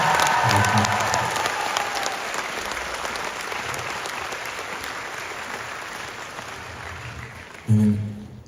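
Concert audience in a hall in Shymkent applauds loudly, a dense sustained clapping that slowly fades, then a fresh burst near the end; a single spoken word comes just before the final swell.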